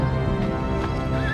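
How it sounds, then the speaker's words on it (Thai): A startled horse whinnies in a Bible story scene, a steady close neigh running the full length over a busy background. "ม้าก็ตกใจและสะบัดโซโลให้ตกลงไป"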